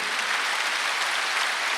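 A church congregation at a Sunday worship service claps together in a continuous, dense wash of applause, steady and fairly loud through the brief stretch.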